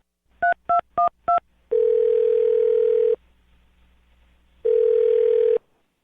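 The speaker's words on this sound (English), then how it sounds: "I'm going to dial her phone number right now" Four quick telephone keypad tones are dialed, followed by two long steady ringback tones separated by a silent pause, clean and close with no talk.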